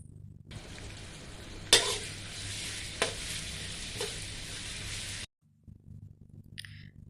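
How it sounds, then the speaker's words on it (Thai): Gentle frying sizzle of chili and garlic in a little oil over low heat, a steady crackle with a few spatula knocks against the pan before it stops abruptly. "ตั้งกระทะแล้วใส่น้ำมันลงไปค่ะ น้ำมันไม่ต้องเยอะนะคะ ใส่เฉพาะแค่ผัดพริกกับกระเทียมก่อนค่ะ"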